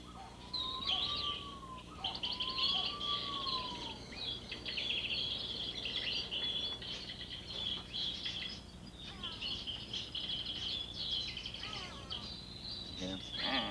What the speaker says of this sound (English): Bird's kind of flying down to you.